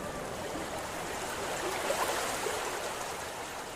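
The Manorama, a small river in Basti district of Uttar Pradesh, flows quietly past, making a soft, steady broadband rush and trickle with no voices.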